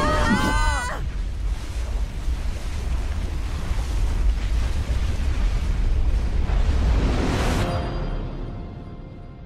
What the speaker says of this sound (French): C'est l'explosion.